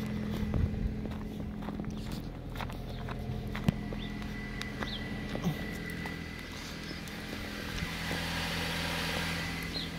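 A 2013 Dodge Avenger SE idles after a cold start, a low, steady engine drone heard at moderate distance with faint footsteps and scattered small clicks around it.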